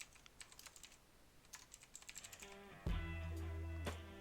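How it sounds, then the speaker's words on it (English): Fingers type on a computer keyboard in a run of quick, light key clicks, then a steady tone rises beneath the final taps, close and quiet. "and we'll start typing."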